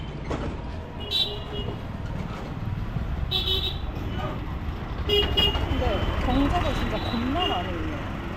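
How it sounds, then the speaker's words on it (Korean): Car horns toot in short bursts amid street traffic in India, with engine and road noise, brief honks near and far, and people talking over the din. "왜 이렇게 경적 올리는 거야 진짜?"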